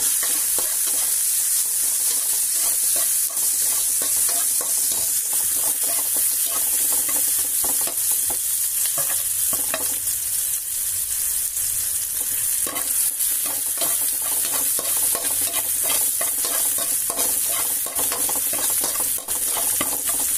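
Garlic and onion sautéing in a pan with a loud, constant close-up sizzle and frequent scraping and stirring clicks from the spoon, no talking.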